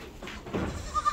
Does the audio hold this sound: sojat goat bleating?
yes